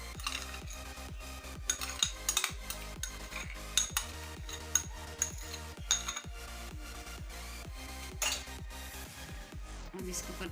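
A spoon works mayonnaise into cooled masala filling for bread pockets in a home kitchen, giving repeated metallic clinks and scrapes against the bowl at a steady, uneven rhythm, close and moderately loud, with no talking.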